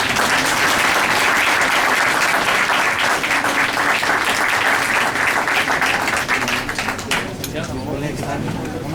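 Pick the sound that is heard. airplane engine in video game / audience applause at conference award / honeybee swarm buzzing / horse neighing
audience applause at conference award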